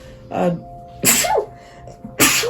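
Three loud, sharp human sneezes spaced about a second apart, each a sudden burst with a breathy intake, close to the mic with no talking.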